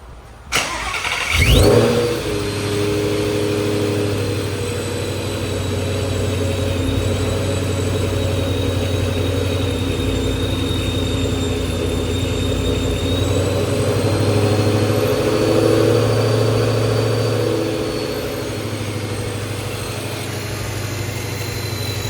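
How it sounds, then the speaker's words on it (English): A supercharged Ford Mustang engine with a ProCharger D1X cranks and catches, then settles into a steady, deep idle that rumbles on continuously, close and fairly loud. "Go ahead and fire it up, Paul. See what it sounds like."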